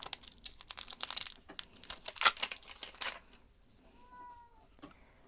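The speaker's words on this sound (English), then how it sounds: "my cat is hungry, if you can hear her meowing in the background" A hungry cat meows a couple of times at moderate distance after a burst of loud crinkling and tearing of packaging from a wax seal unboxing; the meows stand fairly clear once the rustling stops.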